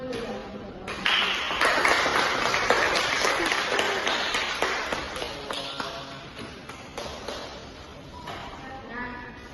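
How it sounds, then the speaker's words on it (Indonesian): A classroom audience at a teaching session claps for several seconds, a dense burst of close applause that swells quickly, then thins out and fades as scattered claps taper off. "Berikan tepuk tangan dulu ya."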